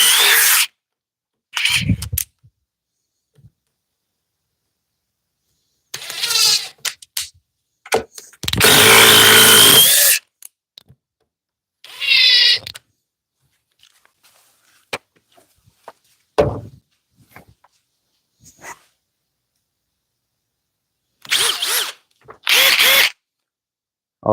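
Cordless impact wrench from a Harbor Freight, Flex, DeWalt and Milwaukee comparison test, firing in several loud hammering bursts of a few seconds each, separated by silent gaps.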